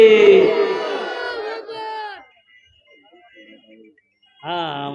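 At an Islamic religious sermon gathering, a crowd loudly chants a slogan in unison. A forceful group shout comes first, then a short quiet gap, and a second raised chorus follows.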